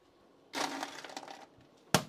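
Ice cubes tumble into a glass with a rattling, crunching clatter lasting about a second, followed moments later by a single sharp clink, close and moderately loud in a quiet kitchen.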